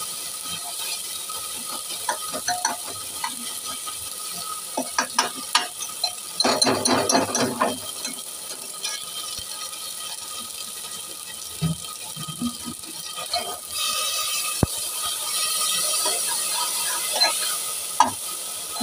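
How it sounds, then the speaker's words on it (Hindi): Masala spices frying with tomatoes in a pan, stirred with a spoon: a close sizzle under bursts of rattling, scraping stirs, with no talking. "मसाला भून रहे हैं"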